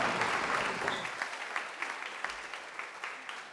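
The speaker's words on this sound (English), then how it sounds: "So let's give a round of applause for all those students." An audience at a college graduation ceremony applauds, a dense, steady wash of many hands clapping that fades slightly toward the end, heard from within the crowd.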